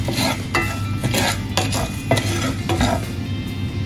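Urad dal (black gram) tumbled and stirred in a warm, dry pan for homemade rasam powder, a steady scraping rattle with repeated spoon strokes against the metal, close and continuous with no talk.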